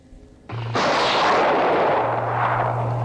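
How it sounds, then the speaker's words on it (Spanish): A laser gun fires in a Spanish radio drama about a submarine, a sudden sharp blast that swells into a sustained roaring rumble with a low electronic hum beneath, loud and alone. "Otro disparo más."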